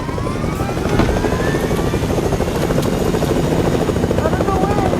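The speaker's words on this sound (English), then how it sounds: "I get in the helicopter" A video-game helicopter's steady rotor and engine whir runs throughout at a constant, fairly loud level, with voices talking over it.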